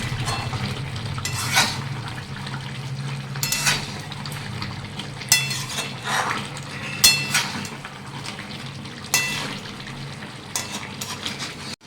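Chicken kosha stirred and frying in a pan, a spoon scraping and clinking against the metal at irregular intervals over a steady low sizzle, close up with no talk.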